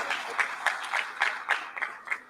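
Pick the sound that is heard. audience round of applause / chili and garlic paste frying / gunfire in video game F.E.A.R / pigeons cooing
audience round of applause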